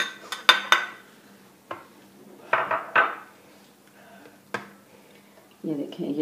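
Fresh cream being mixed into custard in a dish brings sharp, separate clinks and taps of a spoon against the bowl, spaced irregularly with quiet gaps, and a brief voice near the end.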